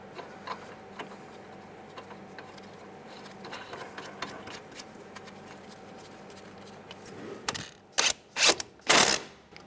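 A ratchet tightens the nut on a front outer tie rod of a 2004–2009 Toyota Prius, giving quiet ticking clicks at first, then a few louder, close bursts of rapid ratcheting near the end.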